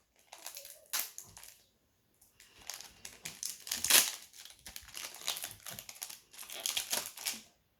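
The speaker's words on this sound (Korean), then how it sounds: "한번 뜯어볼게요." A foil Pokémon card pack wrapper is torn open up close in crinkly, crunching bursts. Short pauses separate the rips, and the noisiest tearing comes in the middle. Nobody speaks.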